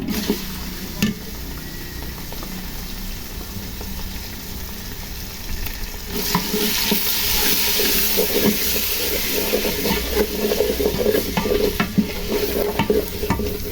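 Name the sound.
frying meat with onion, garlic and ginger paste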